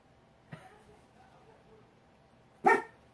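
A pet dog barks indoors in a room, two sharp barks about two seconds apart, the second louder and close to the microphone.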